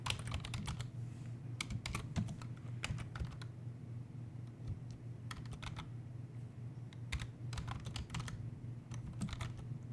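A command is typed on a computer keyboard, with steady bursts of close key clicks over a constant low hum and no talk.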